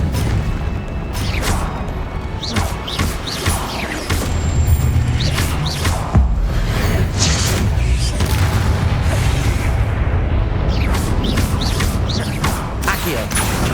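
Incendio fire spell blasts in Hogwarts Legacy, with Accio and Expelliarmus also cast: a busy run of sharp magical bursts and booming impacts over a constant rumbling mechanical bed, loud and dense throughout.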